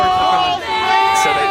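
A large crowd screams and yells in a sustained, dense roar, loud and close, rising and falling slightly as horses arrive among the people.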